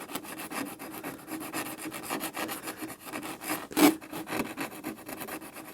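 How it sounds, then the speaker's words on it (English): Corrosion being gently rubbed off 90-year-old nickel plating on a 1929 Riley 9 Monaco, a steady dry rasping scrub in quick repeated strokes, close and fairly loud, with one sharper scrape partway through and no talking. "you're just gently sort of dragging it over, and it quite readily shifts the corrosion off the top"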